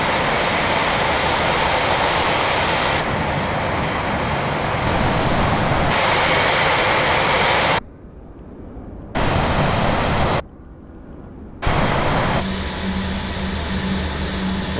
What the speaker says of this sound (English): This is another beautiful jet.